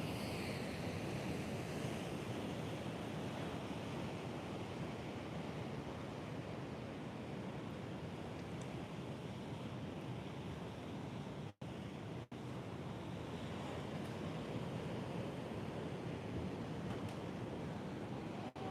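Continuous roar of hurricane swell surf breaking at Nags Head, North Carolina, a steady broad wash of water noise mixed with wind, no voices.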